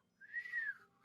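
A voice imitates a half-hearted whistle, starting sharp and then tailing off, a single short rising-and-falling whistled tone heard alone and fairly quiet.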